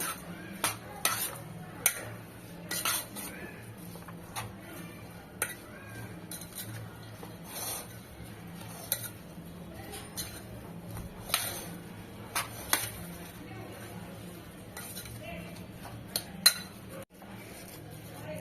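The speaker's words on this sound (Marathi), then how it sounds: "आता हे सगळं मी एकत्र करून घेते" A spoon scrapes and clinks against a bowl while ajwain seeds, salt and other ingredients are mixed. The light taps and rattles come at an uneven pace, close and quiet, with no voice over them.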